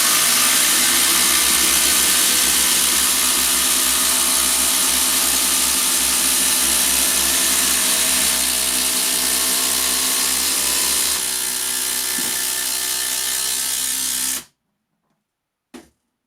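Makita 40V and Milwaukee M18 impact drivers drive 200 mm batten screws: a loud, dense, continuous whirring hammer runs for about fourteen seconds, then cuts off abruptly into near silence with one brief final burst.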